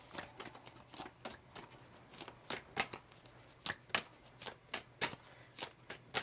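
A deck of oversized tarot cards is shuffled by hand in a quick run of riffles and flicks, each one crisp, close and fairly soft, with no talk over it.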